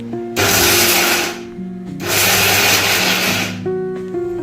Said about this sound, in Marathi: आता हे आपण मिक्सरला वाटून घेऊया।